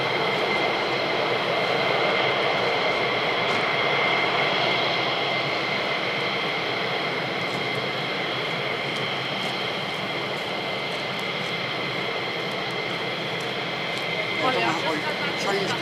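Aircraft flying over RAF Lakenheath airbase, a steady broadband jet roar that fills the whole stretch at constant loudness, with a high whine layered above and no pauses.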